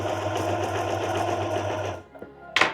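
Sewing machine stitching fabric ties onto the back panels of a shirt, a loud continuous mechanical whir that stops abruptly near the end, followed by a brief clatter.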